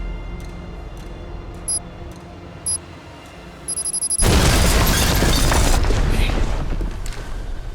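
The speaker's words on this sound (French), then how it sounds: "On aurait dit une explosion." A sudden loud explosion erupts partway through, a broad rumbling blast that lingers and slowly decays, after a quiet stretch with a few faint ticks.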